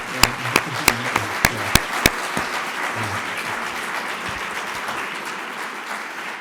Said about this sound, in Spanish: le damos un aplausito para felicitarle